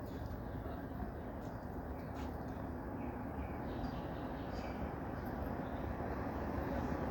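A Vande Bharat train rolls into the loop line at Sangaldhan station, a steady broadband rumble of wheels and carriages holding at even loudness throughout with no clear breaks.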